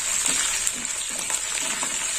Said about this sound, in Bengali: এইভাবে কারি পাতাটা ভেজে নিতে হবে।